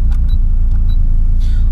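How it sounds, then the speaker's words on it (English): A modified Nissan S14A making 350 bhp gives a steady, loud low engine rumble from inside the car, holding constant through the short stretch with no talking. "let's have a little pull in this car, see what the power is like"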